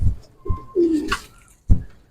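Fancy pigeons coo nearby in a few soft, throaty bursts separated by short pauses, with no talking.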